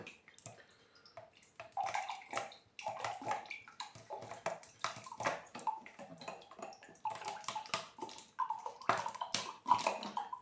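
Unsweetened RIVIVA multivitamin juice pours in repeated bursts into a glass, splashing and gurgling close up, with small clinks between pours.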